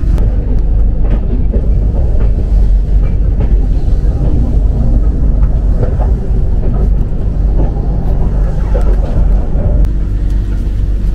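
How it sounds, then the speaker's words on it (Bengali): The Howrah-Ranchi Shatabdi Express pulls into Dhanbad station, heard from on board as a loud, continuous low rumble with wheel clatter that holds steady throughout. "স্টেশনে ট্রেন ঢুকছে।"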